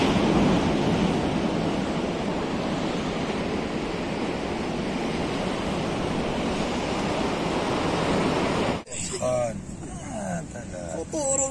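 Sea waves at a fishing spot on the Boujdour coast make a loud, steady wash of surf and wind noise for most of the stretch, then a sudden cut to a quieter scene with brief voices.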